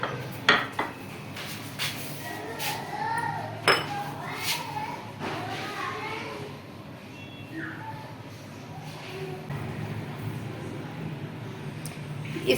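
Beef nihari is ladled from a cooking pot into a serving dish, with scattered metal clinks and taps of the spoon against pot and dish and a soft background of a muffled voice.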